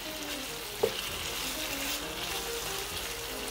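Chicken pepper fry sizzles in separated oil in a pan, a steady close frying hiss throughout with one brief knock near the start.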